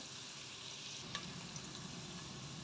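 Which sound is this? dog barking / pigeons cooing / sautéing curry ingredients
sautéing curry ingredients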